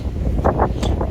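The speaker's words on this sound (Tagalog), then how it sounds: "Lakas ng hangin." Strong wind gusts across the open deck of a BC ferry and buffets the microphone in a loud, rumbling roar with brief surging blasts.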